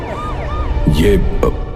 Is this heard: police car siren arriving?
yes